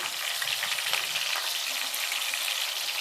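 Onion tipped into a hot tempering of chilies, cumin, fenugreek and curry leaves for a tamarind fish curry, giving a steady, dense close-up sizzle of frying oil that holds evenly throughout.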